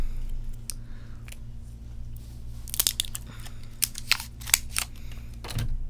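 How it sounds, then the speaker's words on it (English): Scissors cut the plastic wrap off an 18650 lithium-ion battery cell, with a series of sharp, close snips and crinkles in a quiet room. "It's okay to use a scissor."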